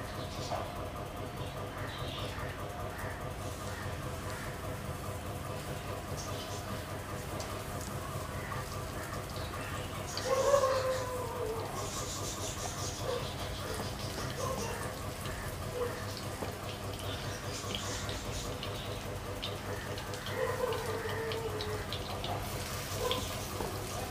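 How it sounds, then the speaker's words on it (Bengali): Moringa leaf pakoras fry in hot oil, giving a steady, soft crackle and bubbling like light rain that runs continuously at low-to-moderate volume, with a few slightly louder spatters. "তো তেলটা গরম গরম হয়ে এসেছে, এবার বড়াগুলো এক এক করে এর মধ্যে ছাড়া হবে"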